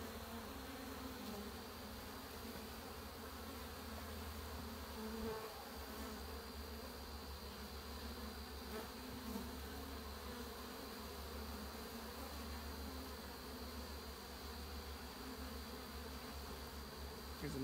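Honey bees buzz around an open, struggling beehive while brood frames are rearranged, a dense, continuous drone of many insects close by, with no speech.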